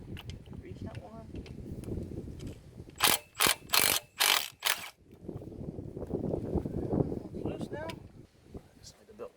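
A ratchet loosens a 12 mm bolt on the pump of a JDM-swapped Honda Accord, a loud close burst of four quick clicking strokes in the middle, with someone talking before and after.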